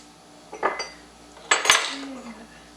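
Cookie dough for monster cookies scraped around a mixing bowl, two short bursts of clattering scrapes about a second apart against a quiet background.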